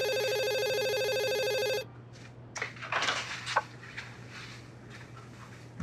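A telephone rings loudly and steadily with a harmonic electronic tone for about two seconds, then stops, followed by faint handling and clattering sounds as the receiver is picked up.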